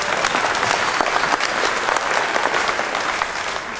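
A live audience bursts into steady, dense applause, many hands clapping together at close range with no pause, holding strong before easing slightly toward the end.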